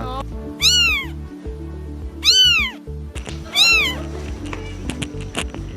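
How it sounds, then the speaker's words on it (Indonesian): A cat meows from inside a box, three loud, clear, drawn-out cries spaced about a second apart, close by over a low background hum and faint rustling. "Tadi ada suara kucing, jadi harus aku lihat dulu."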